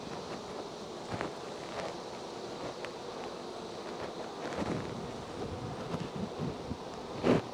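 Honeybees hum in a steady, close drone around open brood frames of a hive, with faint wind and occasional handling noises, and a brief louder buzz near the end.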